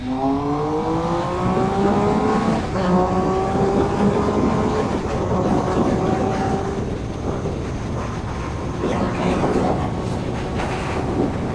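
A Triumph Speed Triple 1050 naked motorcycle accelerates hard, its engine note climbing in pitch through several gear changes, loud and close before easing into a rougher, steadier drone.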